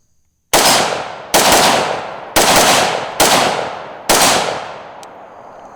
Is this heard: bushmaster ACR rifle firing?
yes